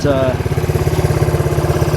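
A motorcycle engine idles with a steady, rapid chugging pulse, close by, with a brief voice at the start, in Guangdong, China.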